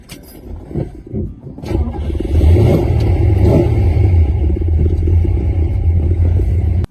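A 1968 Ford Fairlane's original 289 V8 engine sputters, then starts and settles into a loud, throaty, rumbling idle up close.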